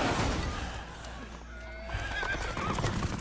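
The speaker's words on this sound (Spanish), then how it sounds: "Fijaos un caballo." A horse neighs and whinnies over clopping hooves in the video game The Order 1886, loud and close against a low rumbling game soundtrack.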